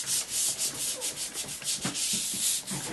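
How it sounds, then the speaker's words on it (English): An application pad rubs paste wax onto a ski in quick back-and-forth strokes, a close, soft scrubbing swish repeated rhythmically, heard alone without talking. "you take the wax and you rub it on the ski"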